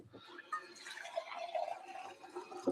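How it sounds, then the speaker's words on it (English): Ordinary tap water is poured into a container in a kitchen, giving a steady liquid splash and trickle over about three seconds, with a clunk near the end. "so I'm putting some water in here"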